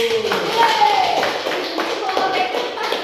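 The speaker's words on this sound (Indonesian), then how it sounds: "kita tepuk tangan untuk kelompok 1" Students in a classroom clap for a group that answered correctly, a loose scatter of individual claps and taps while a voice talks over them.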